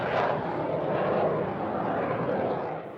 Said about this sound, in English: The launch system that Burt Rutan developed within just 2 years takes off like a normal airplane